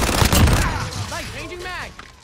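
Pistol shots in Call of Duty: Modern Warfare multiplayer: a dense burst of close gunfire in the first second, then quieter game effects and whooshing tones with more distant shots.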